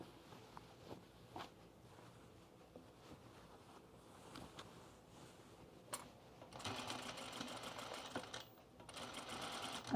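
A sewing machine stitches the collar of a pajama top, starting as a faint, intermittent whir and swelling into a sustained, louder run of stitching toward the end, close to the microphone with no talking.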